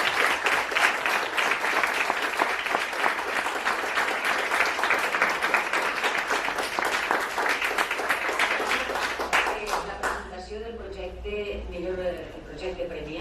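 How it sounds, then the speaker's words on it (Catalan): Sustained audience applause at a university awards ceremony, dense clapping for about ten seconds, then fading as a voice starts talking. "deguem de donar-los a tots un fort aplaudiment"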